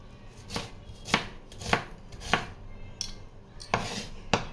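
Onions roughly chopped with a knife on a board, seven distinct sharp chops at an uneven, unhurried rhythm, close and clear with nothing else heard.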